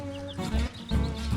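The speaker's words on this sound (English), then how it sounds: "There's a couple white leghorns in there. A couple Rhode Island Reds and a couple other types of chickens." Several hens, white leghorns and Rhode Island Reds among other breeds, cluck in a farm coop, with low, irregular calls rising and falling close by.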